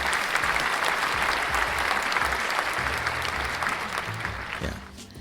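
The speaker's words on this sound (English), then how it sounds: "Oh, where's that applause? It's right here." Canned applause sound effect played during a podcast, crowd clapping with cheering that holds steady, then thins and cuts off near the end, with a low voice murmuring underneath.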